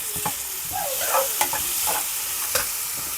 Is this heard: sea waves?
no